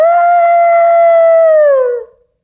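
A man imitates a werewolf howl with his voice, one long sustained harmonic cry that holds steady, then bends downward and fades out after about two seconds, loud and close.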